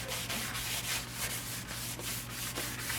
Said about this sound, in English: as I sand through the grits it will become more so.